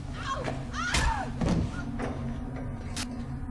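In the video game TimeShift, a rod strikes a person with a couple of dull, close thuds, mixed with a pained cry and a low mechanical hum.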